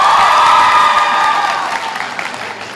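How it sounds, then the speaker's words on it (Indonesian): A loud burst of crowd applause and cheering at a campus stand-up comedy show, strong at first and gradually fading over a few seconds. "Boleh tepuk tangan dulu buat Lolo PFS."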